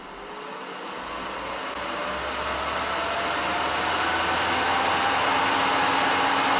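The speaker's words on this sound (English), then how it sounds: "We got the cooling system on." Cooling fan on an Air Venturi 4500 air compressor runs as a steady, loud broadband whoosh that swells slightly over the first seconds and then holds constant, with a faint rising whine beneath it.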